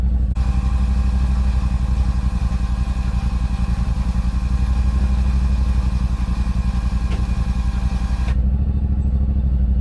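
A Yamaha RMAX side-by-side idles close by with a steady, loud engine rumble while its winch pulls a line. There is a faint clatter near the end, and the engine then cuts to a quieter tone.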